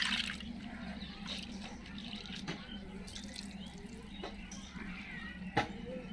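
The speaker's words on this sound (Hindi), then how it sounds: "अरहर का दाल है, तो अच्छे साफ पानी से अच्छे से धुलेंगे" Pigeon pea lentils (arhar dal) being washed in clean water, with soft splashing and scattered drips against a quiet kitchen background, close and fairly faint.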